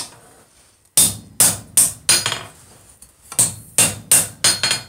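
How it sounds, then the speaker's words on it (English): During hot forging, a hammer strikes a chisel on hot steel in two sharp ringing bursts, first four blows and then five more after a short pause, each close and loud with a metallic ring. "So try to work both sides fairly evenly when you're chiseling like this, at least in hot chiseling."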